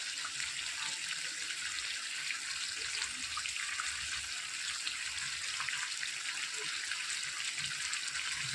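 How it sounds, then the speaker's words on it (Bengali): Water pours steadily into a spicy boal fish curry, partly water used to rinse the spices, making a continuous close hiss and splash with no voices. "এবার আমি সামান্য পরিমাণ একটু জল দিয়ে দেবো, আবার মশলা ধোয়া জল।"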